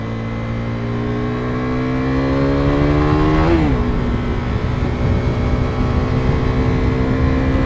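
A 2015 KTM RC390 single-cylinder motorcycle engine revs steadily upward to its rev limiter, where the pitch abruptly catches and drops, then holds a loud, steady drone. The sound is close and there is no talking.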